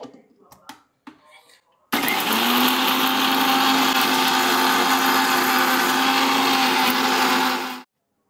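Mixer grinder whirring steadily as it grinds green chilies with water, a loud continuous motor roar of about six seconds that cuts off abruptly, preceded by brief clatter and a voice.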